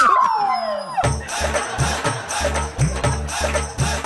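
A person imitates a dog howling on a Telugu comedy stage show, with one long falling howl followed by bouncy background music with a steady beat.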